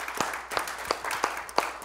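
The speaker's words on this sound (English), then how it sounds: "Give the Lord a hand clap." A church congregation claps hands together at the close of a Sunday service, giving several loose, uneven bursts of claps over a couple of seconds, moderately loud in a reverberant room with no talking.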